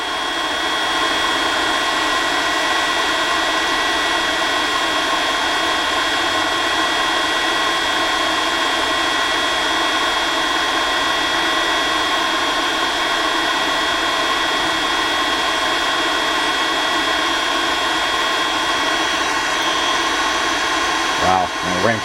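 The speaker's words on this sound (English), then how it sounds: "Sorry about the fan noise." An induction heater's cooling fan roars in a steady, loud broadband whoosh with a faint high whine running through it, continuous for the whole stretch with no speech heard.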